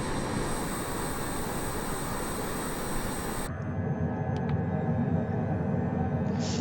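A HondaJet business jet climbs after takeoff with its gear retracting, its engines roaring loudly and steadily before the brighter hiss cuts off abruptly midway, leaving a lower, duller rumble with a few faint clicks.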